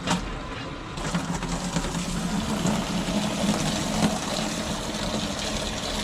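Vinegar flushes out of a partly opened hose on a Navien water heater, a steady close hiss and rush of liquid that swells after the first second and holds evenly, with a low pump-like hum underneath.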